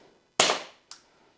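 Glock 26 airsoft pistol firing two sharp, close cracks about half a second apart, the first louder than the second, in quiet surroundings.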